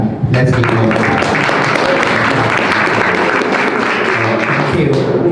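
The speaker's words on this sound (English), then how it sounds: "let's give them a clap" An audience applauds candidates at a West and East African community gathering in Columbus, the clapping dense and steady for about five seconds with crowd murmur mixed in.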